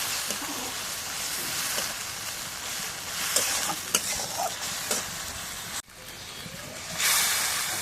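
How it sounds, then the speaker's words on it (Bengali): Spice paste with salt frying in a pan on a clay stove while being stirred, a continuous crackling sizzle with scraping spatula strokes and a brief break near the end. "এখন পেস্ট লাল লাল ভাজা হয়ে গেছে"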